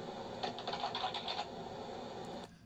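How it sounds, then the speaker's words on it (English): Typing on a computer keyboard, played back from a recorded narration layer: a quick burst of faint clicking keystrokes close by, stopping abruptly before the end. "This particular example is just me typing."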